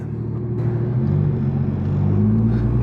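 Porsche 992 911 GT3 with PDK gearbox and aftermarket exhaust, a steady low engine rumble heard from nearby, holding fairly even with a slight swell toward the end, no talking over it.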